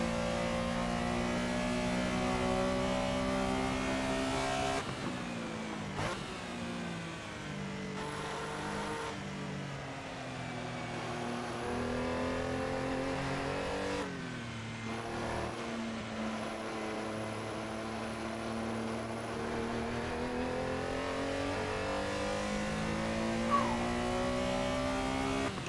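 Porsche Carrera race car lapping Silverstone in the Assetto Corsa sim racing game, engine revving up and down through gear changes with a continuous loud drone and occasional tire squeal, no talking.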